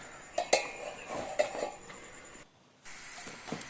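A lid goes onto a metal cooking pot of ivy gourd (dondakaya) curry with a couple of sharp, close clanks and clinks, followed by low kitchen clatter and a short silent gap.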